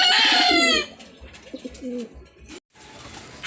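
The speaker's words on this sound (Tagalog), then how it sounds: "Ito yung isa, nahuli lang konti mga kalapatids." Racing pigeons at a loft give a loud burst of close cooing and bird calls, which then fades into quieter rustling and intermittent low sounds with a few short pauses.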